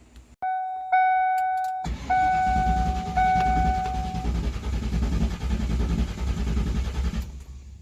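Several chime tones ring, then a 1994 convertible's engine cranks steadily for several seconds without catching, before cutting off into quiet.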